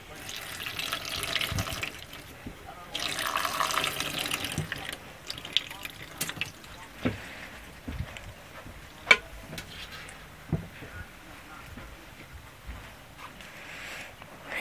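Water runs from a kitchen sink tap in two steady, hissing bursts near the start, followed by scattered clicks and knocks in a quiet room.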